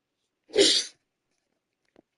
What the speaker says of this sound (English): I just had a sneezing fit.